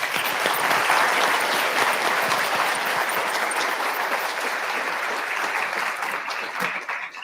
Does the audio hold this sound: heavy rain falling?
no